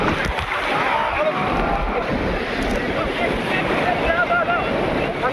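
Sea waves roll and wash at Digha beach in a constant broad roar, blended with wind buffeting the microphone and a busy crowd murmuring nearby.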